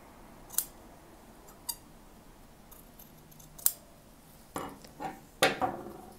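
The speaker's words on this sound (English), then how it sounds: "Just trim a bit more here." Scissors trimming the fabric seam allowance of a wedding dress, a few sharp isolated snips spaced apart with fabric rustle in between, close and quiet with no talk.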